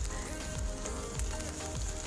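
Steady crackling sizzle of onions frying in hot oil, continuous and close, with no voices.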